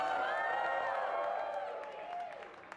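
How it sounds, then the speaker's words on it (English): A live event audience at an Auckland painting session cheers and whoops loudly, with a crowd roar that swells and then gradually eases off. "Can I get a cheer from the audience?"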